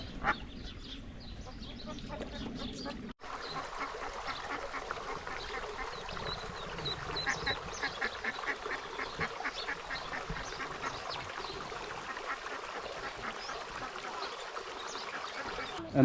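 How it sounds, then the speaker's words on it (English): A mother duck and around fifteen ducklings by a creek on a New Zealand homestead, with soft, steady quacking and peeping carrying on throughout, fairly close and continuous with no voices. "one mama duck has got a lot of ducklings."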